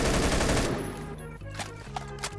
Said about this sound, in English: And I can just shoot through walls like that and get the kill.